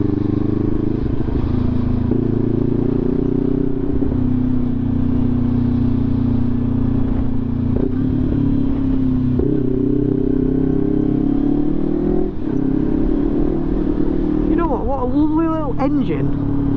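A SINNIS Terrain 380 motorcycle engine hums steadily at low revs while cruising through the Yorkshire Dales, a continuous loud drone with wind rush and a brief rising whine near the end.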